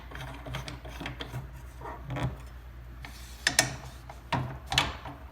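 The knob on a Weston 320 meat slicer is cranked down, giving a run of close mechanical ratcheting clicks and scrapes that grow sharper and louder toward the end, with no talk.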